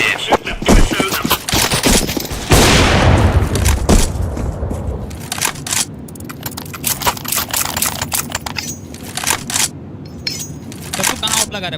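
A grenade blows up in the video game Counter-Strike 2 with a loud, broad boom partway through, set among rapid gunfire bursts and clinking shell casings, while players talk over the action.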